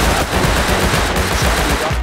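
Rapid automatic gunfire from a Rust raid firefight, ending in a double headshot. Bursts of loud shots fire in quick succession, close and dense, and the barrage runs almost continuously.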